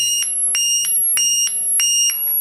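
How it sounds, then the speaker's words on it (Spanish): Repeated electronic beeps from an oscillator circuit, about seven short pulses in a steady rhythm with a high whine underneath, close and fairly loud, like a garage gate opening. "parece un pitido de una reja que se está abriendo, un portón de un garaje"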